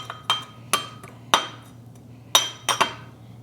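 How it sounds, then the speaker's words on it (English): A metal spoon stirring pinto beans in a pot, giving a handful of sharp clinks and scrapes against the side at irregular intervals, close and clear over a quiet low hum. "And then I'm just going to take my spoon and stir that up a little bit."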